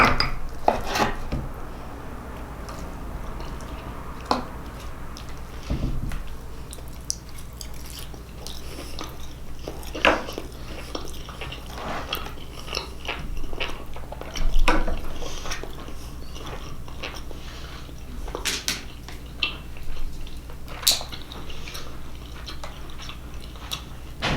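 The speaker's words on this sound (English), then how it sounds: "with the ribs, you pretty much have to use a fork and knife" Fork and knife cutting through a slab of ribs on a plate, with close scraping and clicking of cutlery, occasional sharper clinks on the dish, and chewing noises throughout.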